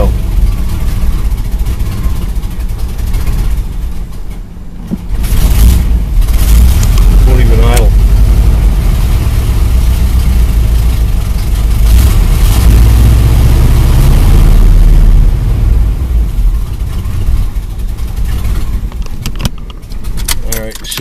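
A car engine with a gummed-up carburetor idles steadily and loud at close range, its low rumble running throughout, with keys jangling and a voice speaking over it.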